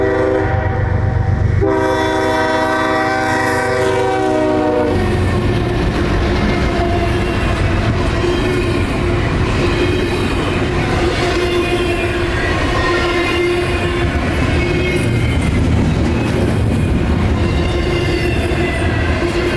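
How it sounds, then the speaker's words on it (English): Southbound Chicago-to-Jacksonville intermodal freight I-195, a short train of double-stack cars with snow on the lead engine's plow, sounds a loud sustained multi-tone horn early on, then rumbles past steadily with rolling wheel and car noise throughout. "southbound Chicago to Jacksonville intermodal I-195"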